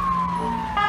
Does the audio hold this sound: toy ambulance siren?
yes